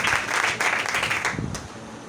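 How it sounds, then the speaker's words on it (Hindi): A church congregation applauds in a brief, dense burst of clapping that fades slightly toward the end. "आइए यीशु के जलाल के लिए, उसकी बुजुर्गी और उसकी यहाँ हुजूरी के लिए जोरदार ताली बजाएंगे"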